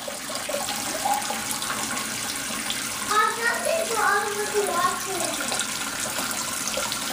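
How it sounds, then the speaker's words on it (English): A child washes dishes at a sink with tap water running steadily throughout, with small clinks and splashes in the middle and soft talk nearby. "Have you been washing all those dishes up, Oliver?"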